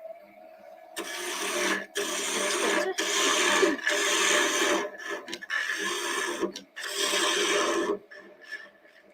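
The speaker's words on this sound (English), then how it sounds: "now you can do a draw cut to start shaping this, which will remove quite a lot of timber" A woodturning lathe with a 3/8 gouge cutting timber, heard as loud, close rasping scrapes in several long bursts with short pauses, over a faint steady motor hum.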